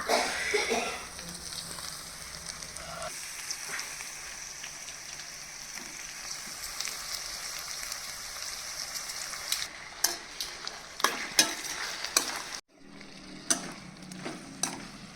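Chicken frying in a pan for chicken chintamani, a soft continuous sizzle with occasional stirring and scraping clicks, fairly quiet and heard alone.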